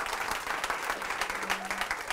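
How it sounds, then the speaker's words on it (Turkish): A studio audience on a Turkish late-night talk show applauds steadily, a dense, moderately distant wash of clapping that holds throughout. "Biraz daha alkışlayın çocukları"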